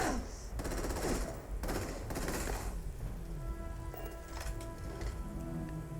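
Gunfire in the Starfield video game, with rapid crackling bursts of shots in the first half, then a steadier hum with tonal game sounds.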